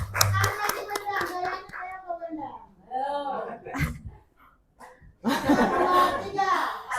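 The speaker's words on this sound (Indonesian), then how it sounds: "Tepuk tangan untuk kita semua." Group clapping at a school gathering on positive culture and Pancasila student values, bursts of hand claps mixed with children's and adults' voices talking and calling out, pausing briefly before a loud crowded burst at the end.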